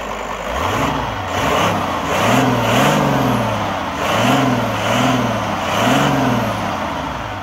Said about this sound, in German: Das ist hier der schöne 10-Zylinder, 5 Liter Diesel mit 313 PS. Und wir werden jetzt hier einfach mal nochmal drauf treten.